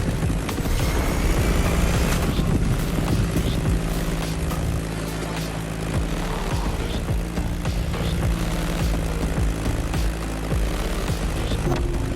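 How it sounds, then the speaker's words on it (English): A Beechcraft Staggerwing propeller biplane drones loudly and steadily in a racing video game, its engine and airscrew roaring close by with a constant, even tone and no talking. "Beechcraft Staggerwing is truly a beautiful piece, isn't it? And a great choice for that flight."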